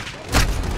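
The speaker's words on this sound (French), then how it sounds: "Lancer un mortier." Mortar blast in Call of Duty Modern Warfare, on an embassy mission: a single low, heavy boom that swells up partway through and lingers as a dull rumble.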